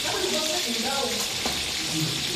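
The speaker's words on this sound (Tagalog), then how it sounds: "piprito natin itong baka" Beef sizzles and spits steadily in a hot pan, a dense continuous frying hiss close up with faint stirring and no talk.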